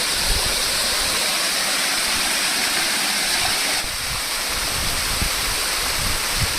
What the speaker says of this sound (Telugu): వాటర్ ఫాల్స్ ఎంత అందంగా ఉందో